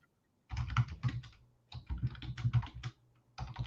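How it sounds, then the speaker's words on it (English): Quick bursts of typing on a computer keyboard while chatting, close clattering keystrokes in three clusters separated by short pauses. "Hold on, I'm typing in the chat."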